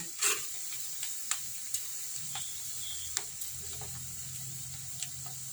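Okra and other ingredients for okra curry (bendakaya pulusu) frying in a pan, giving a steady soft sizzling hiss with occasional faint ticks and pops, fairly quiet and with no talk.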